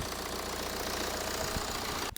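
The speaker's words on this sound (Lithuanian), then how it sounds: "visiškai idealiai variklis dirba" A BMW E91 engine idles smoothly and up close, a steady low mechanical hum with a faint regular pulse that holds evenly, then cuts off at the very end.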